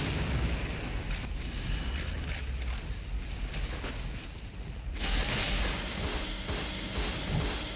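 Heavy booms and crashes from power nodes being destroyed in Unreal Tournament 2004, with dense rumbling blasts and sharp impacts that surge loudly around midway, over constant battle noise.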